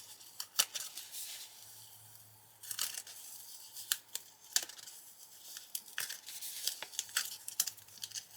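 Tape peeled slowly and close off paper during a galaxy art piece with Inktense pencils and Pan Pastels, giving a series of quiet tearing, crinkly rips in irregular bursts with short pauses between them.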